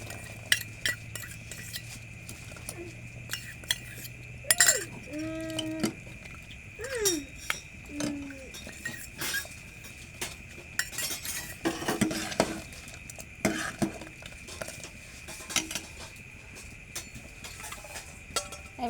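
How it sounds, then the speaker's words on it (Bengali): A spoon stirs a spice paste of cumin and turmeric, scraping and clinking against a metal bowl or pot in scattered near, bright taps and strokes with quiet gaps, while a cat briefly meows in the background. "মশলাটা ভালো করে গুলিয়ে নেব। মশলা শুধু জিরা আর হলুদ দিয়েছি"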